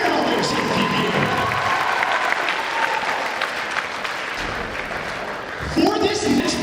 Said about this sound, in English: let's give these guys a round of applause for wearing all their safety gear